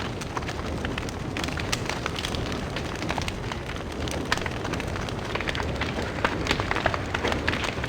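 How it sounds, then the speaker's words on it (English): Campfire burning in the video game Don't Starve, a steady crackling hiss with frequent sharp pops and snaps scattered throughout, close and continuous with no talking. "Sit and enjoy the fire, chill out a little bit."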